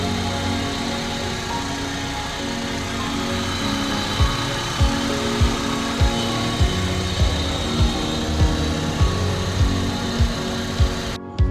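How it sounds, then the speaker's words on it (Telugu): A CNG-kit car engine idles with a steady droning hum and a regular rhythmic ticking pulse, close and moderately loud, with no talk. "ఇంజిన్ రన్నింగ్లోనే ఉంది"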